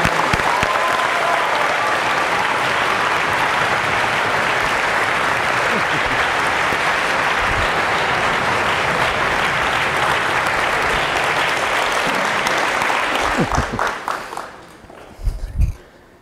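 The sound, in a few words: school audience applause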